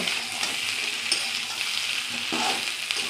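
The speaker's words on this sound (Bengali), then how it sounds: "ফুলকপি আলুটা আমার ভাজা হয়ে গেছে" Cauliflower and Chandramukhi potatoes frying in a kadai, a continuous near sizzle with soft scraping strokes as the pieces are stirred, and no talking.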